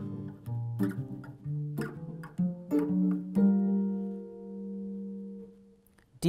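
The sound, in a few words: guitar walking bass line played ascending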